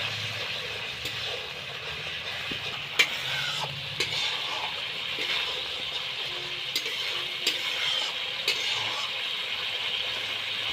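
Fish curry spices stirred in oil in a pan, a steady sizzle with occasional soft scraping taps of the utensil, close and moderately quiet throughout.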